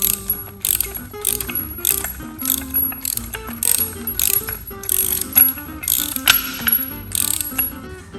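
A ratchet tightens a Trix Circus beam clamp onto a steel beam flange. The mechanical clicking comes in quick, close bursts, roughly eight of them, separated by short pauses, with no voices.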